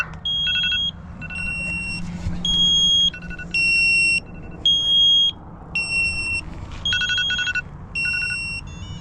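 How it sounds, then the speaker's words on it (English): A Knog Scout bike alarm gives a short series of loud, sharp electronic beeps, then bursts of higher shrill tones in a repeating on-off pattern, heard close and alone with a faint background hum. "There's a beep that comes off before the alarm starts sounding."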